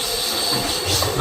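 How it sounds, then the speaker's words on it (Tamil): A train crossing the new Pamban bridge rumbles steadily with a continuous rolling roar and faint hiss, heard close from on board. "இப்போ நம்ம ட்ரெயின் உள்ளார போயிட்டுருக்கு"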